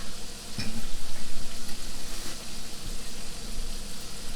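Firecracker shrimp sizzling loudly in a hot pan, a dense continuous frying crackle close by with a brief clatter near the start and no talk.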